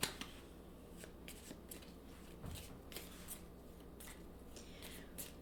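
Tarot cards being handled and shuffled, giving soft, irregular riffles, slides and taps up close at a low level, with no voices.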